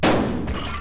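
A single loud shotgun blast from the Buckshot Roulette video game booms up front, then trails off in a rumbling decay that lasts the whole moment, with no voices.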